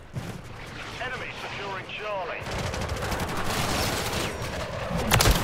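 Call of Duty gunfire rattles in rapid, loud bursts of shots and heavy blasts, with someone talking over the battle noise.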